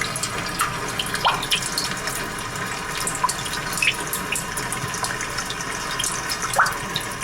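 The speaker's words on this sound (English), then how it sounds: "Well, for instance, you have a rainy day," Continuous patter of water and rain with scattered drips and splashes, a steady wash of liquid sound with no voices.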